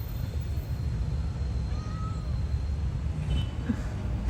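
A cat lets out a single faint meow midway through, heard over a constant low rumble, with a few soft clicks and no clear speech.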